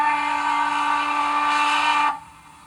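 A steady Norfolk and Western single-chime steam train whistle blows one long, loud tone with a hissy edge, then cuts off abruptly, leaving faint background noise.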